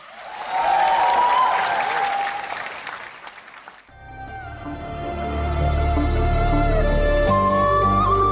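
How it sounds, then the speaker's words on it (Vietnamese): Warm applause from the audience at the Thử Thách Cùng Bước Nhảy 2016 gala finale, after a dance performance to a song. Dense clapping and cheering for about four seconds fades, then loud music with a deep beat takes over. "Xin dành một tràng pháo tay nồng nhiệt."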